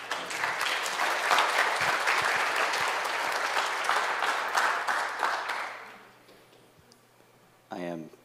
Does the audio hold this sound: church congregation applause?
yes